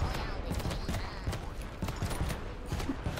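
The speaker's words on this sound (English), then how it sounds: "And that's carpet bombing" Carpet bomb explosions in the artillery game Worms WMD: a string of repeated, thudding blasts in an uneven rhythm, with people talking over them.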